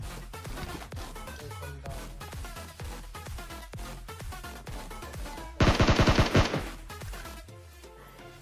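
Rapid automatic gunfire from the PUBG Mobile video game, a dense loud burst of repeated shots standing out over busy background game music and effects, with no talk.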